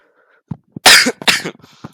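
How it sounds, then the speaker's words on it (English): A person with COVID coughs: a few soft throat sounds lead into two harsh, loud cough bursts in quick succession, trailing off into quieter breaths, close to the microphone. "sorry about the cough"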